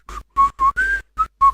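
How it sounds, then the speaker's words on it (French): Six short whistled notes from a person by a riverside fishing spot, each a clear tonal burst with brief pauses between, close and loud with no talking. "Sifflote, va, sifflote."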